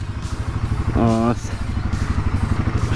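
Royal Enfield Himalayan 450 motorcycle just back from its third service, its engine running at a steady low rumble throughout with a brief rising tonal whine in the middle, under a man's speech.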